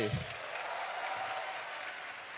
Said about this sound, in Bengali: আমরা একটা জোরে তালি দিতে পারি?